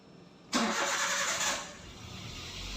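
A Daihatsu Terios engine cranks and fires with a sudden loud start, then settles to a steady idle close by, with no talk over it.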